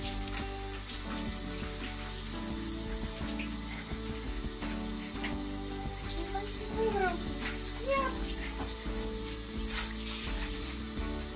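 Tap water runs steadily while a French bulldog puppy is bathed, with occasional clanks and splashes and faint voices mixed in.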